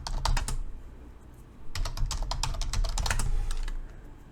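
Typing a terminal command on a computer keyboard: close, crisp key clicks in two quick bursts separated by a short pause, alone with no talking.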